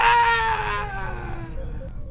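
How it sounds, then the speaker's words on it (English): The classic Wilhelm scream sound effect, a single sharp, high-pitched yelp that falls away and fades out with a trailing tail. "Nice to do a Wilhelm scream there"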